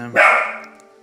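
A single sharp dog bark, close and fairly loud, with a quick onset and a short ringing tail.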